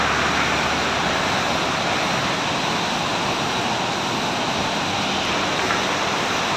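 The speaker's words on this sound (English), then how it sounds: "you might be hearing the sound of the river flowing" A river in Assam runs beside the road, a broad continuous rushing wash of water that stays steady and fairly loud throughout, with no voices over it.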